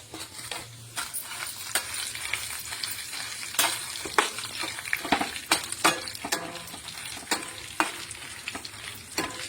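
Cumin seeds and dried red chillies fry in hot oil for tamarind pulihora, a dense, close crackling sizzle punctuated by frequent sharp pops and spatters throughout.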